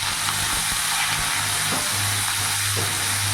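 Chopped pumpkin, potato and radish hit hot tempered oil in a pan, producing a loud, steady sizzling hiss with faint stirring clatter and no voices.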